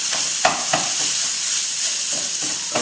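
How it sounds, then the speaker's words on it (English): Meat for a breakfast casserole browns in a hot pan with a loud, constant sizzle, close up and sprinkled with a few quick stirring scrapes. "remember my meat is browning back here"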